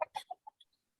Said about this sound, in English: Can you see my flock of chickens?